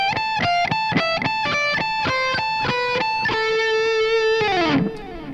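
A heavily distorted electric guitar plays a fast neoclassical pedal-tone lick, with quick picked notes that keep returning to one repeated tone, then a sustained note that bends down and fades out.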